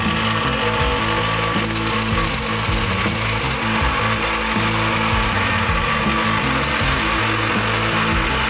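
A power tool cuts and trims steel diff brace brackets for a Nissan Patrol build, giving a continuous, loud, grinding buzz that carries on without pause and with no talking.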